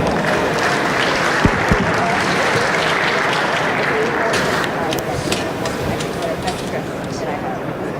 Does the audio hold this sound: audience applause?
yes